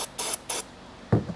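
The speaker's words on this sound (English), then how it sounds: "Let's spray a little juice in there and see if we get this thing to fire up." Starting fluid sprayed into an old generator's engine in a few short hissing bursts, close and loud, followed by a brief dull clunk.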